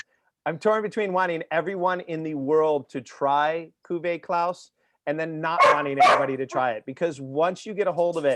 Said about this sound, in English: excuse me, sorry about my dogs.